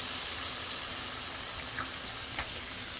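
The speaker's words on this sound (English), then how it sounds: "Add water." Water poured into a pan of cooking seasoned ground beef gives a soft steady hiss and sizzle with faint bubbling, close and quiet, no talk.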